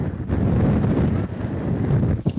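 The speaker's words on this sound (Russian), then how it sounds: "Чувствуешь ветер?" Strong wind gusts around Mont-Saint-Michel, the rocky island abbey in France, roar as a continuous, loud, low buffeting rush against the microphone, with no voices.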